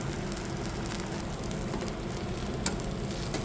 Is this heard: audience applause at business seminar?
no